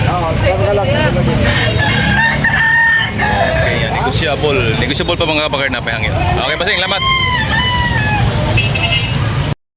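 Red roosters for sale at a Carbon market crow and cluck repeatedly amid busy surroundings, with a seller talking loudly over them throughout.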